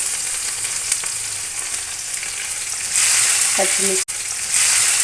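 Curry leaves and onions fry in hot oil in a kadai for a fish curry, giving a continuous close sizzle that briefly cuts out, then returns louder.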